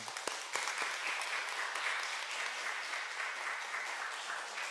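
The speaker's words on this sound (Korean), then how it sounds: "우리 박수로 한번 환영하겠습니다" A church congregation claps to welcome a new member, sustained moderately loud applause from many hands, with a few sharp louder claps near the start.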